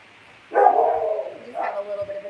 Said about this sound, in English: The dogs are barking in the background.